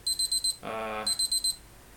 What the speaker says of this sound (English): That's an alarm for, I don't know what it's for, but can be annoying